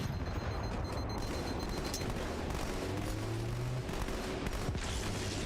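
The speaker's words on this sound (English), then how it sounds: "Oh no, grenades!" Grenade explosions and gunfire in the Halo: MCC video game form a dense, steady barrage of booms and rapid shots, fairly loud throughout, without talk.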